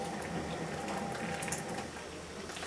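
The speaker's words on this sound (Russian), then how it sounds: "Чайник уже вскипел." An electric kettle at a rolling boil, heating water for chamomile tea in a home kitchen. The bubbling is a steady, close rush with no talk over it.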